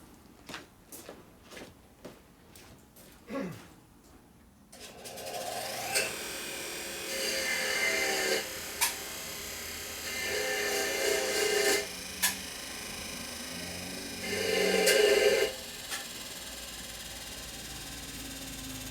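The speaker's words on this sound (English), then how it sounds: "Time for a sharpening job. Let me shorten it up a little bit. Go back over here and grind it a little bit." A Harley-Davidson XL Sportster 650 single engine part, rebuilt for SCTA land speed racing, is ground to sharpen and shorten it. Rough, rasping grinding bursts rise and fall over a steady workshop hum after a quiet start, with no talk.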